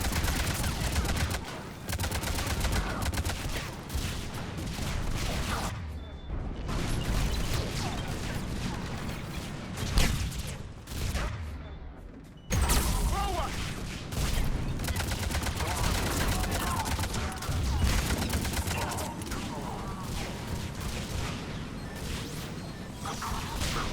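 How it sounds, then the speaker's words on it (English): Dense gunfire and explosions roar through a battle in Mass Effect Legendary Edition, with rapid volleys, crashing blasts and whooshes running almost nonstop, broken by one brief lull. "Everything's exploding."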